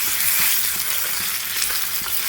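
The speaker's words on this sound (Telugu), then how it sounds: "ఈ ఉల్లిపాయలోకి బంగాళదుంప మొత్తం కలిసేలాగా కలుపుకోవాలి." Potato pieces fry and are stirred into onions in a hot pan, giving a loud, steady sizzle with scraping stir strokes throughout and no talk.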